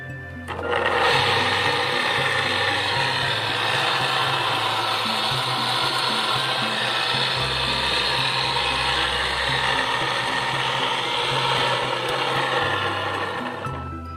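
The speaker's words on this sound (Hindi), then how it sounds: "अब ये मोटर इस साइड में चल रही है" A Kirloskar 2 HP open electric motor running steadily after being connected to power, giving a continuous loud whirring hum with a low drone that shifts slightly partway through.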